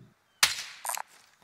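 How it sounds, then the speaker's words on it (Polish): Gunfire in Call of Duty aimed at a helicopter, one sharp close shot followed by a quick burst of a few rapid cracks, with quiet gaps around them. "Heli sobie strzelam."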